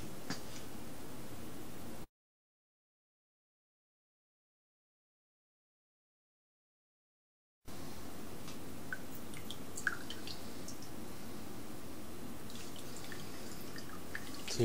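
Coffee trickles in faint, irregular drips through a disposable DIY camp coffee maker outdoors, with a long silent gap partway through; no talking.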